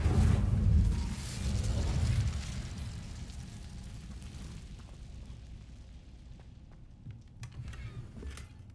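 A fiery Incendio spell cast in Hogwarts Legacy bursts with a deep, loud whooshing boom at the start, then rumbles and fades into quieter ambience with faint clicks and small pops.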